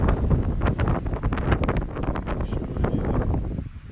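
Strong wind buffets the microphone on a mountain trail in Washington, a steady loud roar with gusty rustling throughout that eases slightly near the end.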